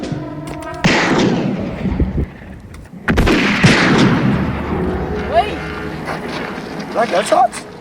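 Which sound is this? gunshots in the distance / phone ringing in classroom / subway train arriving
gunshots in the distance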